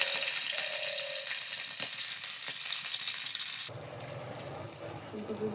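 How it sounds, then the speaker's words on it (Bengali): Cauliflower pieces fry in hot oil with a steady close sizzle and a few sharp stirring clicks, before the frying drops away near the end. "ফুলকপিগুলোকে পুরো একদম লাল লাল করে ভেজে নেব।"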